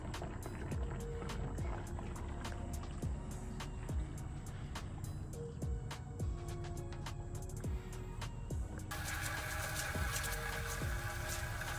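Used engine oil from an MK6 Golf GTI gurgles and trickles steadily through an extractor hose into a container, with a continuous low pump hum and faint irregular clicks throughout.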